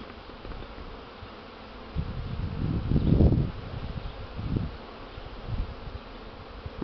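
Honey bees swarm and buzz around a beehive outdoors, a steady dense drone with louder swells as individual bees pass close to the listener.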